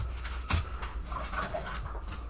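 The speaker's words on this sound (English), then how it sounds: "Just hear the dog." A dog heard during an online Among Us session, giving soft whimpers and a brief sharp bark-like yelp among faint background noise, close by and fairly quiet.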